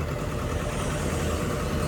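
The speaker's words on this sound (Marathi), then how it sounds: "ट्रॅक्टर एकदम जवळ आलाय." A Holland tractor's engine runs close by on a slope in steady, continuous low rumbling, loud and unbroken throughout with no talk over it.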